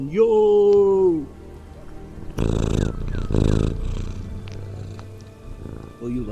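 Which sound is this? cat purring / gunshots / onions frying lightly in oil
cat purring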